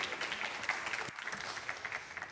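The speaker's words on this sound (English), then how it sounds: "a round of applause for Lily" Audience applause for Lily as she is welcomed onstage at an Ocean Race summit in Genova: a steady, fairly soft patter of clapping with a brief dip midway, continuing evenly to the end.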